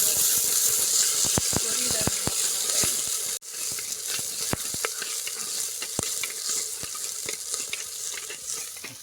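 Onions frying in a pan over heat in a village outdoor kitchen, a steady loud sizzle broken by sharp clicks and scrapes of a spoon stirring, with a brief dropout midway; no talk.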